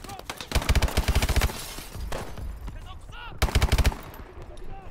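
Automatic weapons fire in Call of Duty: Advanced Warfare, two rapid bursts of loud machine-gun shots separated by game sounds and faint voices.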